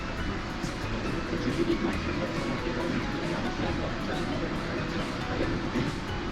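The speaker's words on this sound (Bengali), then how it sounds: "একটা এলিভেশনে উঠছে পুরো ট্রেনটা।" The 15777 Tourist Express, a Vistadome train in the forested Dooars during the monsoon, climbs an elevation. Its steady rolling rumble and rail noise are close and continuous, with no talk over them.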